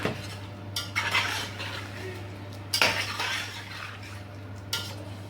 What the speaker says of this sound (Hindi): और मज़ीद अब आप इसकी भुनाई कर लें